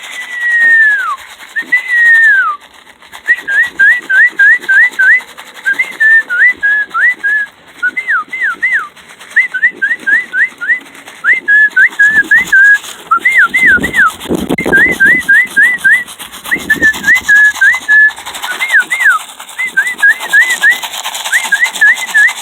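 A person whistles repeated short, chirpy phrases to call pet birds, with rising and falling notes in steady bursts for over twenty seconds, fairly loud and close, with slight background rustling and no talk.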